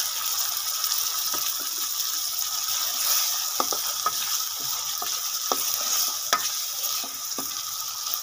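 Tomatoes added to ghee with browned onion and ginger-garlic paste sizzle steadily in a pan, a loud continuous frying hiss with intermittent stirring scrapes and clicks up close, no talking.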